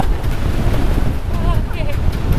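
Strong 40-knot wind at sea on a sailing boat heading to Namibia roars loudly and constantly into the microphone, with water rushing beneath it and a voice faintly audible.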